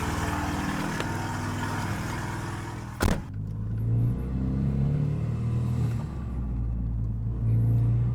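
A loud Renault Megane RS project car runs close by with a deep rumbling idle; a sharp bang or clunk cuts in about three seconds in, then the engine drone returns, swelling and easing without any talking.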